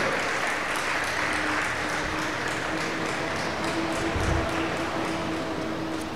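A church congregation claps through a steady wash of applause at a Spanish-language worship service, with a sustained tone and a faint voice beneath it.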